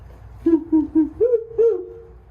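A voice imitates an owl-like frog call: five hooting notes in a steady rhythm, the last two slightly higher and longer, close and clear.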